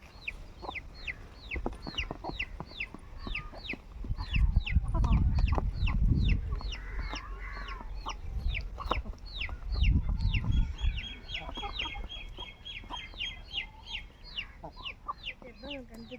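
Chickens cluck repeatedly at close range, some of them sickly from eating wet grass after early monsoon rain, with sharp rhythmic calls running throughout and a few louder low thumps and rustles in the middle.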